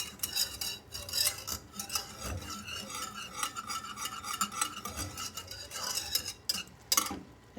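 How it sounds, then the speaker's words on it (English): German chocolate cake icing being stirred in a pot on the heat, with steady, close scraping of a utensil against the pot bottom that keeps up almost without pause throughout. "Sorry about the scraping sound, but I've got to keep that"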